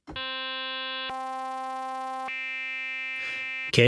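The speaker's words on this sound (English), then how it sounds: "we're sending this triangle into the sine wave" A steady synthesized tone with bright, buzzy harmonics that shifts timbre twice as the wave shape changes, ending in a brief burst of noise.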